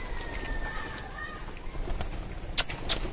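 Pigeons at feeding time take off together, two quick flurries of flapping wings near the end, faint against a steady outdoor background.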